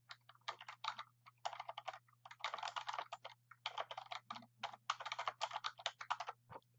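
Quiet typing on a computer keyboard, bursts of rapid key clicks separated by short pauses, close and isolated over a faint steady hum.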